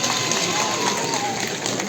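A large crowd at an outdoor political rally claps in a dense, continuous wash of applause that holds steady throughout, with a voice faintly present beneath it.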